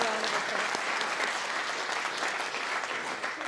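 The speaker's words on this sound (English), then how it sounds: "So let's give them a round of applause." A keynote audience gives a round of applause, dense sustained clapping from a large crowd, loud and even throughout with some voices blended in.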